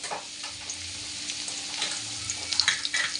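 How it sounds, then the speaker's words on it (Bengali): Radhuni seeds and garlic tempering in hot oil for a bottle gourd greens and prawn dish, giving a steady, close sizzle of frying that holds for a few seconds with faint, light stirring clinks. "লাউ শাকে রাঁধুনি ফোড়ন দেব"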